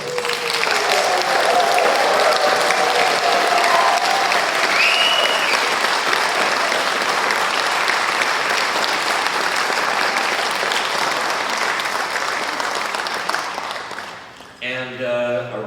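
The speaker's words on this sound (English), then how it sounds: "One more round of applause for these folks." A concert audience in a theater at a spring swing concert breaks into loud, sustained applause that fills the room and fades out after about fourteen seconds.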